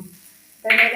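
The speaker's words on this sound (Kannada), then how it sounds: "ಇದು ಒಗ್ಗರಣೆ ಆಯಿತು" Spices tempering in hot oil for a lentil dal rasam burst into a loud, close sizzle partway through, after a quiet start with a little low background noise.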